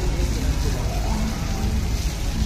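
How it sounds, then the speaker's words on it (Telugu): Heavy rain pouring down in Goa, a dense, continuous and loud wash of falling water with no break throughout. "తర్వాత అది అంతా ఫుల్ వర్షం అనమాట"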